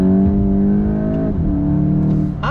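A 2022 VW GTI hot hatch accelerates on the road, its engine loud and close with a rising note, a brief gear-change dip, then pulling again.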